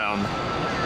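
Airbus A300 jet at Tampa International Airport, giving a steady loud roar of engine noise with broadband rush, continuous through the brief moment.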